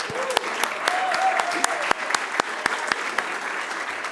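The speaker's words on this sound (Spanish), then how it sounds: "un aplauso para ella" Applause at an anniversary event for the Diario Financiero newspaper, honouring its international editor, heard as a thinning run of separate, distinct claps with a voice speaking over them.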